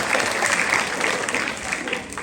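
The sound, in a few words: applause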